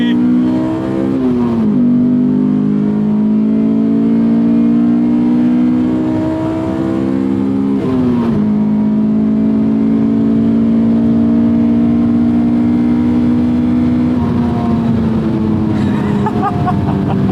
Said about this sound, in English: I love when that VTEC kicks in